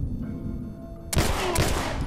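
After a quiet electronic hum, a sudden burst of rapid video-game gunfire erupts and keeps going, loud and dense, in The Last of Us: Left Behind.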